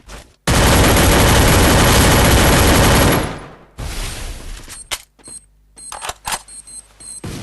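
Rapid automatic gunfire in Free Fire Clash Squad, a loud unbroken burst lasting nearly three seconds, then a gap followed by choppier shorter bursts and sharp electronic game effects.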